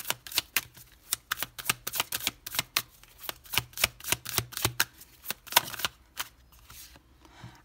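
Tarot cards shuffled and drawn for a Sagittarius reading, with a rapid run of crisp, close riffling flicks and slaps in an irregular rhythm that thins out near the end.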